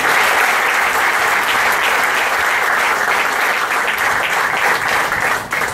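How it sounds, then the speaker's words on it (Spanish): A church congregation claps in praise to the Lord, loud dense applause that holds steady for several seconds before easing slightly at the very end. "Le doy un aplauso al Señor."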